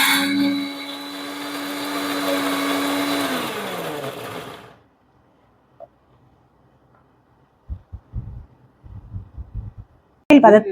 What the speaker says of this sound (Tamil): இப்போ அதை நைஸா ஒரு பேஸ்ட் பதத்தில் அரைச்சி எடுத்துக்கலாம்.